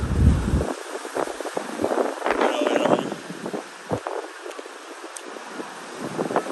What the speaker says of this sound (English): showing you it's pretty windy out here. It's still windy.